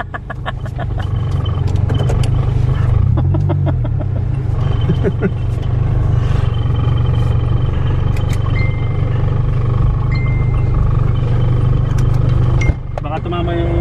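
A car engine idling and revving through a spoon-type aftermarket muffler, a loud continuous low rumble with rising and falling rev swells, heard close up with a voice talking over it.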